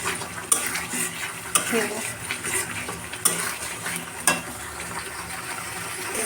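Spices and salt being stir-fried for a chicken roast, a spatula scraping and clanking against the pan in sharp periodic strikes over a steady soft sizzle, close by, with a brief spoken word.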